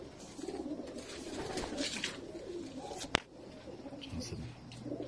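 Pakistani racing pigeons coo in soft, repeated low calls as they land, with someone talking over them and one sharp click partway through.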